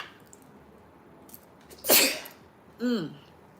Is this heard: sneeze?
yes